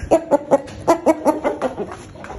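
A chick clucks in a quick series of about ten short, throaty notes, close by and fairly loud, tapering off toward the end.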